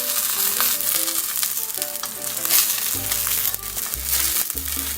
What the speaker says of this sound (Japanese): 油揚げを並べ入れ、焼き目がつくまで焼きます。